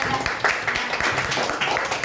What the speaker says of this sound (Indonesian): Beri tepuk tangan buat Mas Soda.